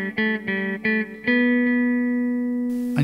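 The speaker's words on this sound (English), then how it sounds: "And you can actually hear a repeat there." Electric guitar through a Yamaha THR5 practice amp on a delay reverb setting: a few quick picked notes, then a sustained note with faint repeats trailing after it, close and clear.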